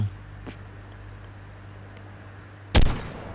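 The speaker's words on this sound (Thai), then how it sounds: "มาปืนลูกซอง" A single loud, sharp shotgun blast booms out in ARK Mobile during an Alpha T-Rex hunt, preceded by a faint pop and trailing off over a low steady in-game hum.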